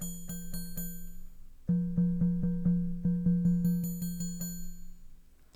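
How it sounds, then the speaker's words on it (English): A mallet-struck tone from Ableton's Collision synth plays as a series of about a dozen evenly spaced, ringing strikes with a bright attack and a humming tail, growing louder partway through and then fading, with no voice. "This is the noise of the mallet striking the material."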